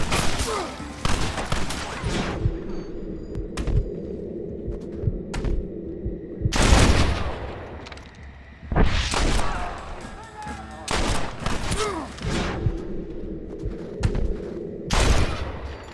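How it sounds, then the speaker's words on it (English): Gunfire during a gate assault in the video game Red Dead Redemption, loud bursts of rifle and pistol shots in clusters with booming blasts and a steady rumbling bed, trailing into short pauses between volleys. "Get ready to hold off their fire, Marston!"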